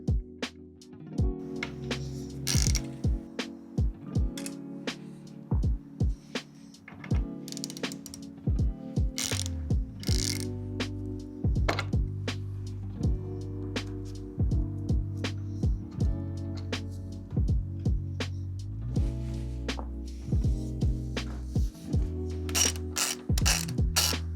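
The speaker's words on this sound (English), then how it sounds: "We've got 1, 2, 3 bolts to take off." A hand ratchet loosens bolts on a Harley-Davidson air cleaner, its pawl clicking in quick rapid bursts with short pauses between strokes and some metallic knocks, close-up and with no voices.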